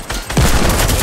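Fortnite gunfire erupts in a rapid burst of shots right after a short pause, loud and close, with no talking.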